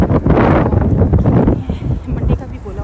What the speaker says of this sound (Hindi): बहुत ज़्यादा गंदी हवा चल रही है